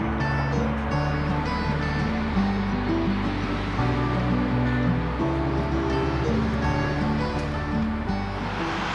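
Steady, loud roar of motorway traffic next to a forest hiking path near Erfurt, a continuous broadband rush of passing vehicles with low rumble filling the whole stretch, no voices.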